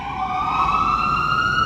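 A fire engine's wailing siren holds one steady, loud tone that rises slightly in pitch as the truck passes nearby, with no voices over it.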